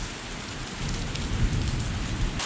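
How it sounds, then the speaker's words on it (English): Heavy monsoon rain pours down in Kerala, a dense steady hiss of drops drumming on surfaces that grows slightly heavier partway through, close and continuous with no voices. "It has like just in the past few days started raining even more heavily than usual."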